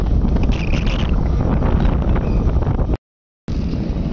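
Passenger launch running on a river in Bangladesh near Munshiganj ghat, en route from Dhaka, giving a loud, steady engine rumble with water and wind rush throughout, briefly cut out near the end before resuming.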